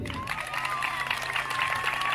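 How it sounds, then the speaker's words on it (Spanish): Audience applause at a live magic show in Almonte, a steady sustained wash of clapping from a crowd throughout, with a faint voice underneath. "dale un aplauso."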